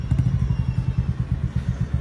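Motorcycles arrive close by, engines idling and revving in an uneven chugging rhythm with a low, pulsing throb, steady and fairly loud with no talk over them.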